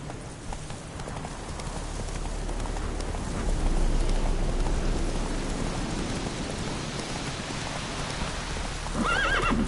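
Horse hooves clip-clopping steadily over a rain-like hiss in the video game Witcher 3, ending with a short neigh near the close.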